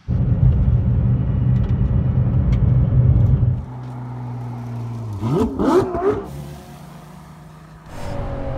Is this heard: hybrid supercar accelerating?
yes